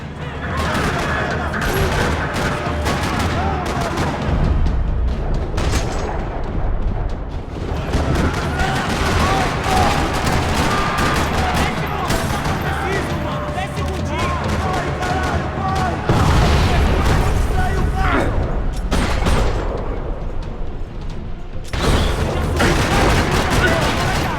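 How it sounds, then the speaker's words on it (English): Steady rattling gunfire and booms in a parking lot in Max Payne 3, continuous and loud throughout, with bursts layered over a dense mix of effects. "Another parking lot rattling with gunfire."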